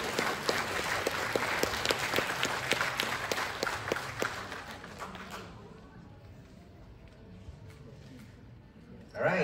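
A graduation ceremony audience claps and cheers for the graduates: dense, loud applause that fades away after about five seconds, leaving a quieter hall with murmuring voices before a brief swell at the very end.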